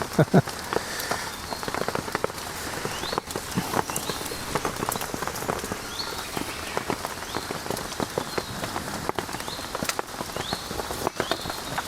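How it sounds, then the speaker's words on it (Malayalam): Rain pattering steadily on leaves and ground in a wild forest, with irregular heavier drips landing close by and faint bird calls in the background. "ഇപ്പോൾ കണ്ടോ, മഴ തോന്നുന്നു, വീണ്ടും വന്നു, വീണ്ടും തോരും,"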